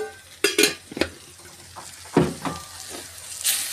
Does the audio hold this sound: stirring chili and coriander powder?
yes